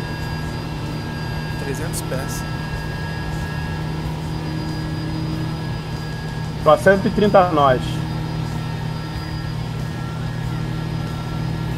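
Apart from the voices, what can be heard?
light airplane engine in flight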